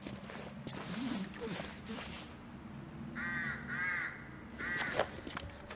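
A crow caws several times in quick bursts in The Long Dark, set against a wintry ambient bed with footsteps and a person talking in between.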